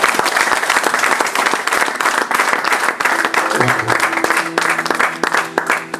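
Wedding guests applaud and cheer at a church ceremony, dense loud clapping sustained throughout with crowd voices and a few whoops layered over it.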